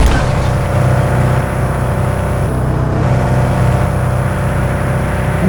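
A CNG-powered car engine revving in the Indian horror video game Ajnabee, a steady loud drone with continuous engine roar throughout and no clear pauses.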